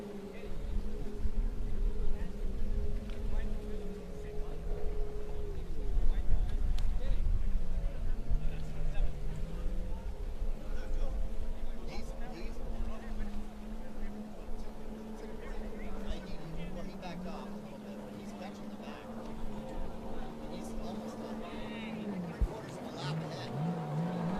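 Vintage 550 Limited racing boats run a race, several engines droning and whining in rising and falling pitch as they pass at a distance, while an announcer's voice carries over the water.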